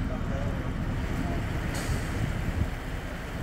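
The boat Verna Jean motoring out on its first spin, a steady low engine rumble mixed with wind buffeting and water rush, with voices faintly underneath.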